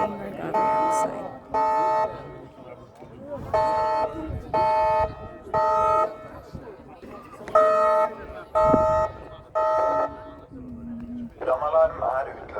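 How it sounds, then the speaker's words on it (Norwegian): Fire alarm in a shopping mall in Norway, a loud repeating electronic tone pattern sounding in short regular bursts with gaps, interleaved with an automated announcement voice in a large echoing space. "The fire alarm has been activated."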